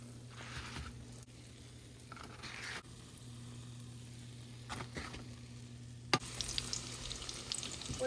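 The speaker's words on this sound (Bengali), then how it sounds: "এই যে বেগুনি ভাজতেছি" Beguni, eggplant fritters, fry in oil in a home kitchen, a soft, steady, faint sizzle with a brief clatter near the end.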